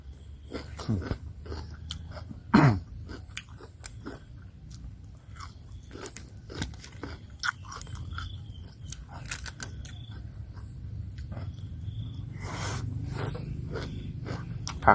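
Close, moist chewing of grilled pork and vegetables at a Thai mookata barbecue meal, with scattered soft crunches and smacks over a low background hum and no talk.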